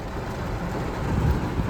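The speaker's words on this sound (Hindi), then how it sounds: "बारिश हो रही है।" Steady rain falling outdoors, a dense broadband hiss with soft low rumble, continuous and moderately loud, no voices.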